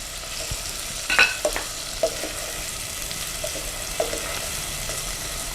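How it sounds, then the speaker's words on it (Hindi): Onions frying in oil for a spinach and egg curry, a steady low sizzle close by with a few brief clinks of utensil against pan, quiet and without speech. "प्याज को फ्राई करेंगे"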